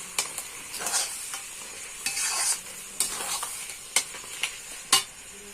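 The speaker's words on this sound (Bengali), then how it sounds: "এই যে এবার আমি গুড়টা দিয়ে দিলাম।" Jaggery being stirred into homemade mango pickle in a pan, with a spoon scraping and clinking in bursts over a soft sizzle, close and fairly loud.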